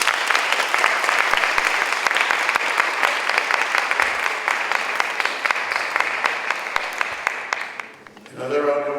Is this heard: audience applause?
yes